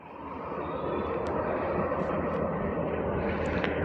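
A Hero Xtreme 125R motorcycle engine runs steadily after starting, a continuous broadband hum close by with a few faint clicks, no talk over it.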